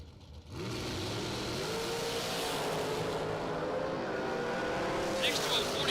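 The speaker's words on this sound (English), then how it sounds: "got the dragster this time" A dragster roars down a drag strip in a steady, loud, sustained engine howl during a bracket-racing event, with an announcer talking over it.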